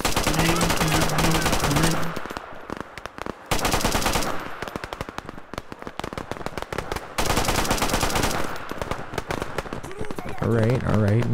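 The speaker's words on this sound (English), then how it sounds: "I'm gonna go with the machine gun." Sustained machine gun fire in a WW2 combat video game, with long loud bursts of rapid shots mixed with other gunfire and a busy battlefield, and a voice speaking at times over it.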